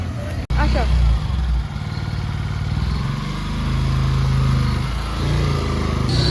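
A motorcycle engine drones steadily throughout at close range, with a brief cutout near the start and a slight rise in pitch toward the end.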